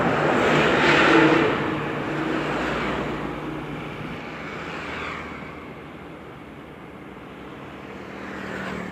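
An intercity bus rumbles past, its engine roar swelling loudly then fading away into steady traffic noise.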